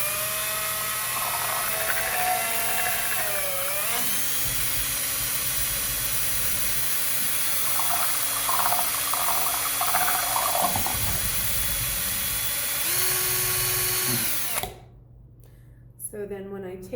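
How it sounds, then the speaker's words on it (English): An electric drill with a mixing attachment churns pour paint, its whirring motor running steadily in bursts and changing pitch between passes, with a constant hiss underneath and a sudden drop-off near the end. "I'm going to use my drill and this attachment to mix my paint."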